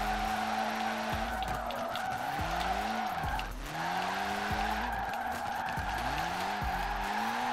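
Video game car drifting through a drift zone, engine revs rising and falling in repeated sweeps over a continuous loud tire screech, with no talk.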